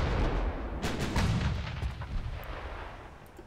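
Naval guns firing in Ultimate Admiral: Dreadnoughts, a loud booming salvo with a heavy low rumble that rolls on and fades over a few seconds.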